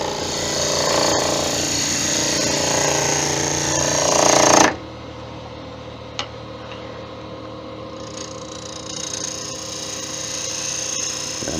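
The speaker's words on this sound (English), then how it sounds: "And back to the grinder again." A grinder works wood on a lathe for a wood-turning piece, a loud continuous whine that cuts off abruptly partway through, leaving the lathe's low hum running with a faint tap.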